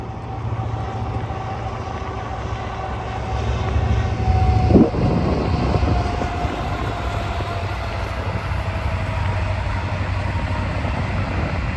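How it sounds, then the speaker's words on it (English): A train passes on a rail line in Dubai with a steady rumble and a sustained tone, louder near the middle of the pass, and no voices. "Big train."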